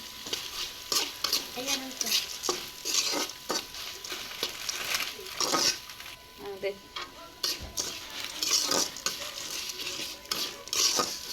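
Chanachur snack mix tossed and fried in a pan, heard as a run of close, repeated scraping and rattling stir strokes over a light sizzle, with occasional clinks of utensil against metal.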